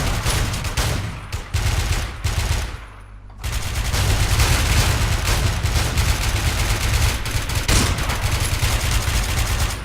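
Rapid bursts of automatic gunfire in the video game Warmode crackle loudly, with a short pause before a longer sustained volley follows.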